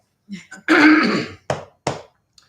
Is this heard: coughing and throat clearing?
yes